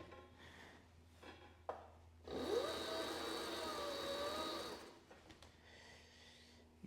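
A Cobra NP4 skiving machine runs with a loud, steady whirring grind for about two and a half seconds as leather passes through it, with faint handling clicks before and after.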